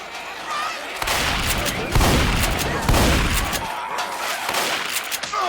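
Rapid gunfire rattles in Left 4 Dead 2 on realism expert difficulty, dense overlapping shots in sustained bursts that swell and fade over several seconds, with a voice talking faintly beneath.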